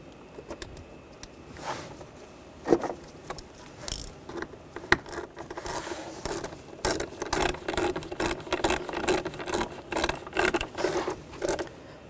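Screws are started by hand to secure a mass airflow sensor on a 2009-2017 Volkswagen Tiguan, giving close, light metallic clicks and ratchet-like ticking that get busier and more rhythmic in the second half.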